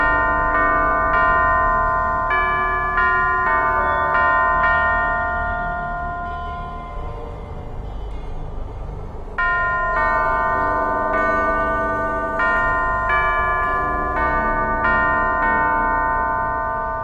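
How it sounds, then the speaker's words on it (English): A sequence of ringing bells played in Alice Madness Returns, clear metallic chimes struck one after another in a melodic pattern with long sustained tones, loud and close, pausing briefly midway before a second run. "Only by playing the correct sequence of bells can it be opened."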